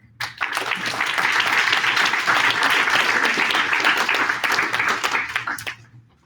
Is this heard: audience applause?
yes